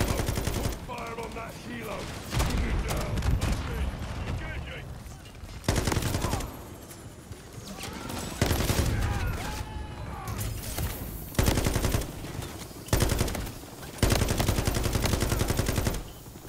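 Sustained bursts of LMG machine gun fire in a Call of Duty: Modern Warfare III campaign firefight, loud repeated volleys broken by short pauses, with radio chatter and other game sounds around them.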